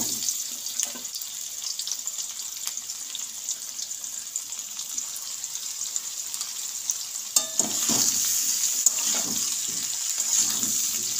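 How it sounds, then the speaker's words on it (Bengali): Boiled raw jackfruit pieces, cooked earlier with salt and turmeric, fry in hot oil in a pan in a village kitchen, giving a steady bright sizzle, then a clatter of stirring and louder crackle toward the end. "এবার আমি কাঁঠালগুলো ভেজে নেব, সিদ্ধ করা কাঁঠালগুলো।"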